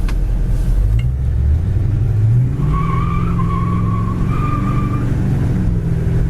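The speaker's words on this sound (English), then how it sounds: ".318 two barrel, still squeals the tires." A 1974 Dodge Charger with a 318 two-barrel V8 rumbles steadily while its tires let out a loud, sustained squeal in two long wavering bursts over the engine drone.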